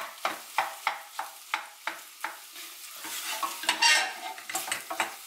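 A utensil stirring and scraping food in a frying pan over low heat in a home kitchen, with regular rhythmic strokes and clinks against the pan over a soft sizzle, close and fairly quiet.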